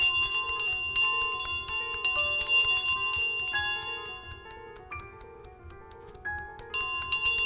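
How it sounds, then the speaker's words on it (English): The goose in Untitled Goose Game carries a loud handbell that rings in repeated bright clangs, clustered in quick bursts with short gaps and lingering metallic tones, close and prominent with no talking. "this loud bell that alerts everybody of our presence"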